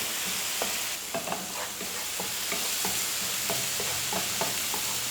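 Prawn roast masala sautéing in a pan, with repeated scraping and stirring strokes over a steady close sizzle; no voices.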